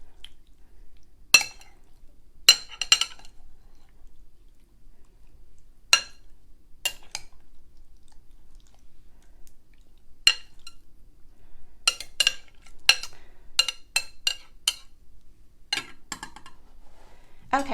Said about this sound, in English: So I'm just going to gently stir this so as not to break up the gelatin